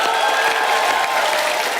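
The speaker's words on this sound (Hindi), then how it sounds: "जोरदार तालियां हो जाए।" A television studio audience claps loudly for a brief burst, a dense, even roar of applause with a faint crowd murmur underneath.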